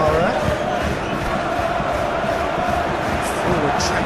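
Stadium crowd noise from the football video game Football Life 2025, a steady loud roar of massed fans with faint chanting under a commentator's voice throughout.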